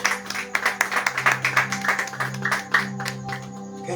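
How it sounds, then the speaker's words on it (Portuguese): A church congregation claps together in a steady, rhythmic beat, loud and fairly close, with a murmur of voices underneath. "Bate palmas para Jesus, amados irmãos."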